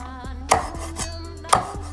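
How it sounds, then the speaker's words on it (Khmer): A knife chops through chicken feet on a cutting board in a home kitchen, sharp percussive whacks at an irregular beat, two of them especially hard, with no talking. "ឥឡូវនេះខ្ញុំកាត់ជើងមាន់ខ្ញុំ កាត់កញ្ចក់ជើងមួយចេះទៅ"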